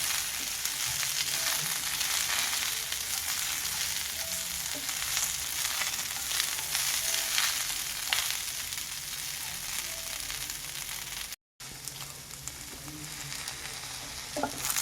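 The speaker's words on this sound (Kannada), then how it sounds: "ಜಸ್ಟ್ ಆಯಿಲಲ್ಲಿ ಚೆನ್ನಾಗಿ ನೀವು ಫ್ರೈ ಮಾಡಿಕೊಂಡ್ರೆ ಸಾಕು." Okra for a gojju fries in hot oil with a dense, continuous close-up sizzle and crackle that holds steady throughout, dropping out for a brief moment near the end before resuming.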